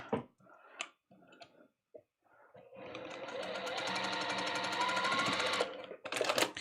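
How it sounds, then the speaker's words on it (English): A sewing machine runs in one steady burst, stitching a quilt block with a 1/4 inch seam, after a few short handling clicks. The rapid mechanical whir is close and fairly quiet, then stops with a brief rustle of fabric. "pair them right sides together and sew with 1/4 inch"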